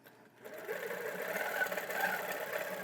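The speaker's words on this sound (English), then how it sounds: "Then when I stop, it just does a slow stitching with the percentage," Quilting sewing machine doing slow free-motion stitching at a low 3% speed setting, a steady close whirring hum that rises after a brief quieter start and holds evenly.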